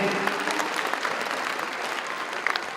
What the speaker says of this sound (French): je voudrais que vous les applaudissiez